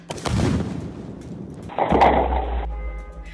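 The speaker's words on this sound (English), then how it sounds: "And now you're setting off explosives." A tannerite explosion goes off as a sharp near blast, and a second heavy boom follows with a deep rumbling low-end roar that lingers before cutting off.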